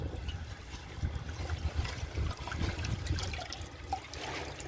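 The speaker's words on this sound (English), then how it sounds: "Flushing stuff down toilets" Water rushes and gurgles steadily from a 1984 Kilgore Apex toilet as it flushes. The sound is close, turbulent and fairly even, with low churning underneath, and nobody talks.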